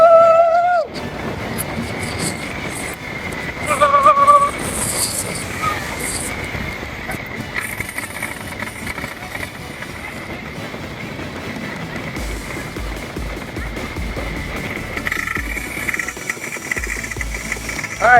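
The Beast wooden roller coaster at Kings Island ridden in the rain from the front row, with a continuous rumbling, clattering track roar, wheel squeals and wind rushing, plus shouts from riders over it.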